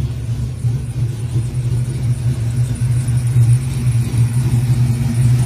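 A custom car with a 383 stroker V8 idles close by, its deep rumbling exhaust steady and loud with a slight lumpy throb throughout, no voices over it.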